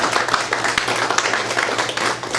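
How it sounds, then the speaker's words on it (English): A crowd at a ribbon-cutting ceremony gives a round of applause for the Kiwanians, dense steady clapping filling the space from start to finish. "Let's give a round of applause for the Kiwanians."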